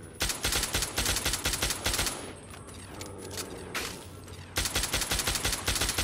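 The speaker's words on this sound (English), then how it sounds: "Plasma rifles really are not that accurate." Rapid plasma rifle fire from Fallout 3 in loud, dense bursts, with a brief lull in the middle before the shooting resumes at full intensity.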